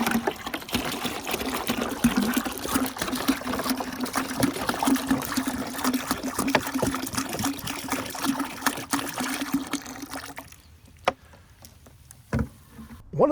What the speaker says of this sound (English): got 1 gallon of water in there already. Let me dump in the second.